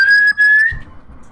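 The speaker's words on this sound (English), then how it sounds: "And then he's gonna whistle." A single person whistles a steady high note with a short break, then trails off into quiet with a faint low thump, alone and close.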